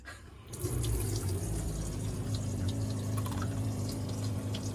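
A steady mechanical hum with a low drone from a pressurized water pump in a Renault Master camper van runs continuously under a wash of running water, like a pump driving a faucet.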